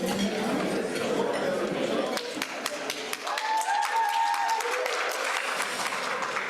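An audience at a Rotary gathering claps, with scattered sharp hand claps that thin out over several seconds while a voice speaks nearby.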